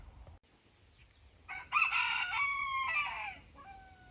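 A rooster at a chicken coop crows once, a loud, drawn-out call of about two seconds, followed by a short softer cluck over quiet outdoor background.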